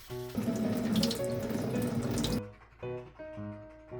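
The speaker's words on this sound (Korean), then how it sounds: "세제를 묻혀서 마무리 세척을 해주세요" Running water from a kitchen tap splashes into a sink while a new Daiso knife is washed with detergent, loud and continuous, then cutting off abruptly into a quieter pause.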